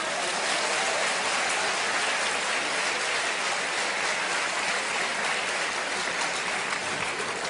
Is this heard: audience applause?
yes